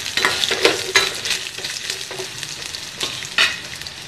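Ginger and tamarind sautéed in a pan for a ginger chutney, with a continuous gentle sizzle and the repeated scrape and clatter of a spoon stirring, close and fairly loud, no talking.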